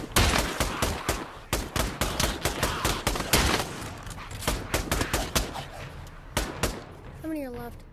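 A minigun in the VR shooter Pavlov fires in dense rapid bursts, loud and close, with a brief lull midway, then a rising electronic whine as it spins down.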